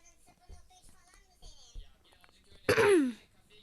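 Faint background murmurs, then one loud, close throat clearing with a rasping cough-like burst near the end.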